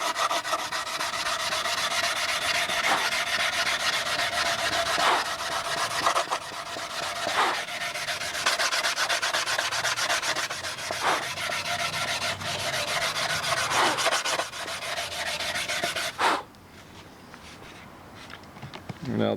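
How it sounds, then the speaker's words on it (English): Wood is hand-sanded with 220-grit sandpaper in steady back-and-forth rasping strokes, close and continuous for about sixteen seconds before dropping to quieter rubbing. "I'm just roughing it out with 220 paper."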